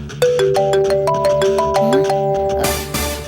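A phone ringtone plays a bright repeating melodic tune, loud and close, running for a few seconds before giving way to a noisy burst at the end.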